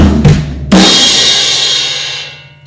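A drum set plays a short fill: a couple of quick low drum strokes, then a loud crash cymbal struck together with the snare, ringing out and slowly decaying, close and alone.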